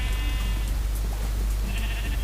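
Sheep bleating in Minecraft, a couple of short nasal bleats over a constant low hum and game ambience, loud and close, with no talking.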